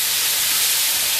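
Ground meat browns in a pot for chili, giving a brief, steady, close hiss of sizzling.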